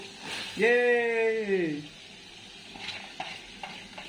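Vegetables stir-fry in a pan with partly fried chicken for chowmein, a soft sizzle running beneath a drawn-out voice near the start, followed by faint clinks and stirring.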